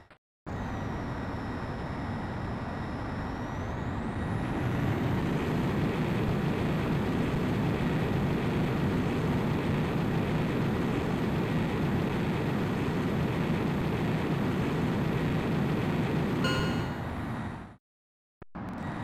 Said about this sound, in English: Griffith 1, you are cleared for takeoff.